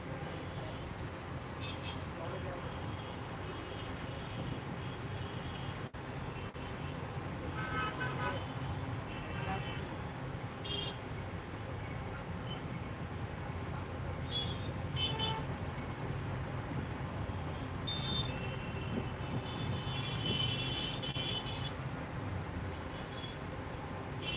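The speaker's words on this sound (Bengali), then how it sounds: "আমরা আছি এই ঢাকা শহরের প্রধান প্রধান রাস্তা" Dense street traffic on the main roads of Dhaka, a steady roar of cars, buses and trucks with car horns tooting throughout, continuous and close, with voices talking over it.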